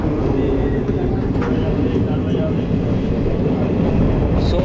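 A local train pulling out of Beldanga station toward Ranaghat produces a loud, continuous, close rumble that dominates throughout, with faint voices blended into the noise.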